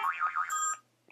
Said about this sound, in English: That's my phone alarm